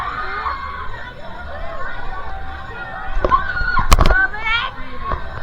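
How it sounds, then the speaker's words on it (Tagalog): People on an amusement ride shout and scream amid a noisy crowd, with rattling and mechanical clatter from the ride as voices rise and fall. "Ito yung literal sigaw."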